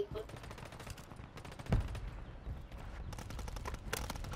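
Rapid gunfire from a weapon in Warzone 3, likely the RAM 7, bursts of close shots crackling over a low rumble with a sharp loud crack midway, firing continuing under game noise with a voice talking.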